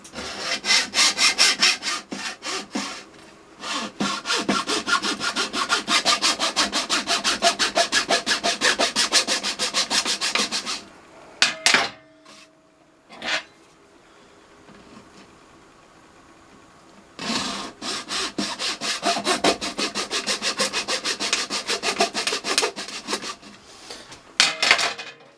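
A hacksaw cuts through an RTV silicone mould in long runs of rapid, rasping back-and-forth strokes, loud and close, with a quiet pause of scattered handling sounds in the middle before the sawing resumes.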